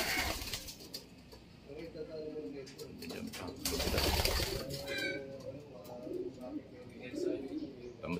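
Young pigeons cooing in a loft, soft low murmuring calls repeated at close range amid rustling and background noise, with people talking nearby.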